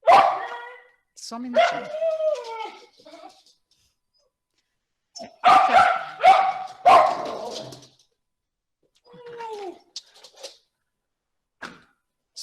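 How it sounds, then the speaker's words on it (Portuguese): A pet dog barks excitedly at the doorbell in several loud bursts with yips between them, and a voice speaks briefly over the barking. "É que tocou a campainha e meu cachorro fica meio maluco."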